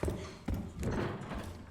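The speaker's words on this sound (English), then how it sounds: "Oh, that's a horse!" A horse's hooves clop in a horror video game demo, a few close, heavy thudding steps over a short burst with a muffled ambient backdrop.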